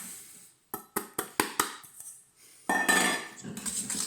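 A whisk strikes a mixing bowl as sugar is mixed for a lemon tart: a quick run of five or six crisp metallic clinks, then a louder burst of rapid scraping and rattling whisking, close and clear.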